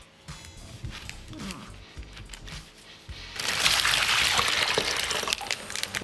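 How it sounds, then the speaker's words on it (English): Water poured into a plastic Ziploc bag for a kids' science experiment, starting as a light trickle and swelling about halfway through into a steady, louder splashing gush that continues to the end. "Let's begin by putting the water in the Ziploc bag."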